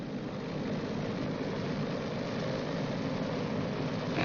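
Boeing B-29 Superfortress piston engines running up together to 1,500 RPM, a steady, dense propeller-engine roar holding at constant loudness throughout, with no voices.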